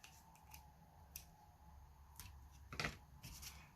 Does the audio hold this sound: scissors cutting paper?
yes